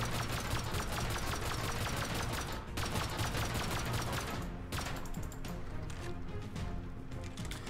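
Gunfire in the video game Rust is aimed at a door: rapid, dense bursts of shots, loud and continuous with brief pauses between volleys.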